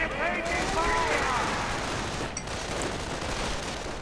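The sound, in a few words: gunfire and grenades in a World War II strategy video game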